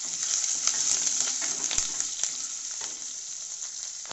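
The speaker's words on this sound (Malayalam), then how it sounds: "ഉള്ളി നല്ലപോലെ മൂക്കണേ." Sliced onions fry in hot oil in a pan for a Kerala fish curry, giving a steady bright sizzle with small crackles and pops that runs unbroken throughout.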